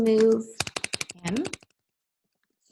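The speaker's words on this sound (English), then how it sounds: "I'm just typing in that" Quick bursts of typing on a computer keyboard, about a dozen rapid clicks in a row, close and crisp, with a person speaking just before and partly over the keystrokes.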